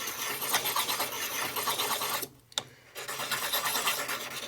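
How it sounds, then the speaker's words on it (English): A dull knife blade is sharpened with a steady abrasive rasp that rises and falls. It stops briefly in the middle with a sharp tick, then resumes at similar loudness. "Okay, time for some more sharpening."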